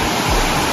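A clear mountain stream fed from a virgin forest rushes steadily, giving a close, continuous broadband wash of flowing water with no break through the brief moment.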